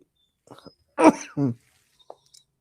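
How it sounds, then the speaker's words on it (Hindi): A few short, harsh vocal bursts, coughs or throat-clearing, close by, with quiet gaps between them and no speech. "उसके बाद थोड़ा खांसी होगी।"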